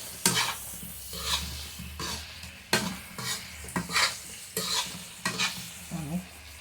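Chopped onion and tomato sautéing in a pan for garlic prawns, a soft sizzle broken by repeated sharp scraping stirs of a utensil against the pan, close and steady.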